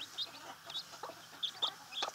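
A broody hen clucks softly and repeatedly among her chicks, with faint high peeps mixed in, close by in a quiet morning setting.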